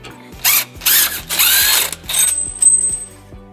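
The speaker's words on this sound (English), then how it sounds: "we're going to use a 12mm socket to remove these 2 bolts from the hanger." Ratchet fitted with a 12mm socket working bolts loose from a trailer hitch hanger on a 2007 Nissan Murano, heard as several short bursts of clicking and whirring with brief pauses between them, close up, with no talk.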